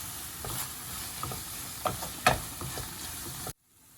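Chilli and coriander powder being stirred into cooked tomatoes for a mutton kofta curry, a soft sizzle under a few scraping strokes of a spoon in the pan, faint and close before cutting off to silence.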